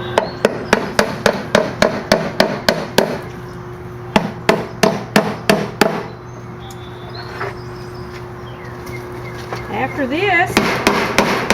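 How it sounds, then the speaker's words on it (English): A hammer drives roofing nails through weed block fabric into a wooden raised garden bed, sharp, close blows coming in quick rhythmic runs with a pause in the middle, and a voice speaking briefly near the start. "now I'm just nailing the weed block fabric block in place so it stays."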